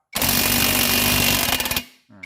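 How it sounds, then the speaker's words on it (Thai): An impact wrench drives a nut on a 168-volt battery block, a loud close burst of rapid hammering for about one and a half seconds that cuts off, followed by a brief second whir. "เดี๋ยวผมจะยิงน็อตให้ดูนะครับ 2 ตัวนี้นะครับ"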